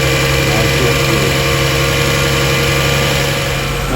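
A 2001 Lexus GS 300 engine idles steadily after a timing belt and water pump job, a loud, even, continuous hum with a low rumble and no break from start to finish.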